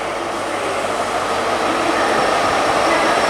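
A Class 43 HST set pulls into Reading station on the Great Western Main Line, bound for London Paddington, giving a steady, fairly loud broadband rumble and rolling noise that holds throughout with no voices.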